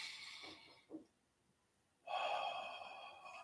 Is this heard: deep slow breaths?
yes